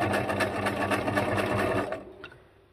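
A sewing machine runs steadily, stitching a zigzag pattern onto a paper junk journal tag, then stops near the end, leaving a brief quiet tail with a faint click.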